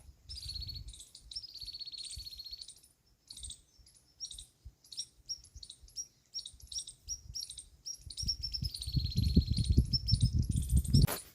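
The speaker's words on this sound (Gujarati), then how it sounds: "જો ચકલા પણ બોલે છે" Sparrows chirp in quick repeated bursts, bright and close, with pauses between; low rumbling noise builds underneath toward the end.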